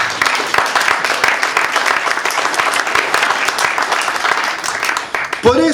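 A church congregation breaks into applause during a pastor's sermon, dense, fairly loud clapping that holds steady for several seconds before a voice cuts in at the end.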